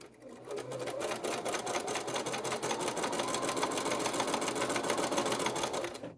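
A sewing machine runs continuously at an even, fast pace, stitching a lengthened 3 mm straight topstitch, loud and close with a steady mechanical chatter.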